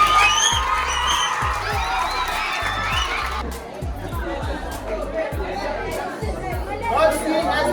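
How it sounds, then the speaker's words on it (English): At a college tech competition award ceremony, an audience cheers and chatters for the winner while a steady low thumping beat runs underneath, the crowd noise thinning partway through. "Give him a round of applause."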